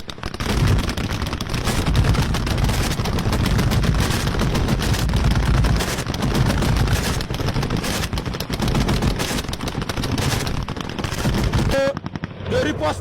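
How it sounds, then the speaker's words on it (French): Dense, sustained bursts of automatic gunfire rattle continuously, loud and close, with heavy overlapping shots throughout. "On va reconnaître que vous entendez le coup de feu"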